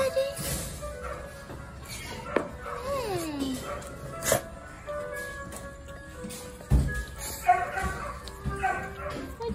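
A young dog whimpers and yips in high, wavering cries, interspersed with a few sharp knocks and some nearby talking.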